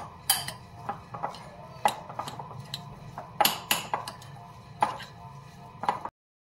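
A potato and carrot filling with salt, chili flakes and lemon juice is mixed by hand, giving sparse, irregular clicks and taps against a bowl over quiet background.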